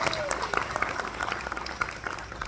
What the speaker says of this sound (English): So if we can give a round of applause and appreciation.